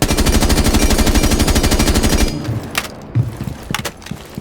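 Automatic gunfire with recoil in Rainbow Six Siege on PC: a loud, rapid, evenly spaced burst lasting about two seconds, then quieter scattered game sounds.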